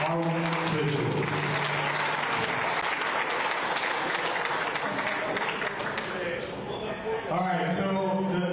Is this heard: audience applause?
yes